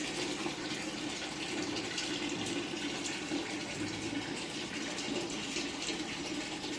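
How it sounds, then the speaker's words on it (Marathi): Tap water pours into an air cooler in a continuous, even rush of splashing and gurgling that holds steady throughout, close by with no pauses. "नळाचं पाणी टाकते आता पूर्वा"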